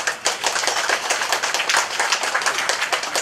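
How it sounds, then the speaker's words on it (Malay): Live audience applause for Abdul Aziz and Tok Muluan at a Chinese New Year celebration, a dense, steady wash of many hands clapping close by for about three seconds without talk. "Saya rasa kena bagi satu tepukan pada Abdul Aziz dan Tok Muluan."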